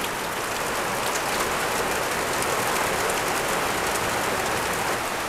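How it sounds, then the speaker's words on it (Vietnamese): Heavy rain pours steadily and loudly on a surface, a dense unbroken hiss with no voices. "Mưa lắm, mấy ngày nay cứ mưa như vậy thì buồn lắm mọi người ạ."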